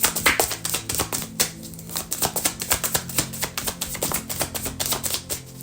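A deck of tarot cards being shuffled by hand gives a rapid run of crisp flicking and tapping clicks. The clicks come close together and continue steadily with no voices.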